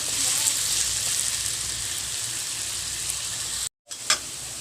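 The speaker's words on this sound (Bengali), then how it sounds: "আলুগুলো ভালোভাবে নেড়ে চেড়ে ভেজে নেব।" Potatoes sizzle and fry steadily in a hot pan, a constant close hiss with occasional stirring scrapes and a brief break in the sound.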